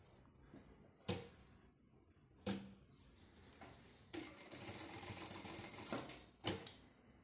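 A sewing machine stitches bias tape onto a fabric baby bib in a few separate bursts, with a sustained run of stitching in the middle and short sharp mechanical clacks between. The machine is close and fairly quiet, and no one speaks.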